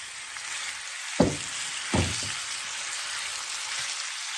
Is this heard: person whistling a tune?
no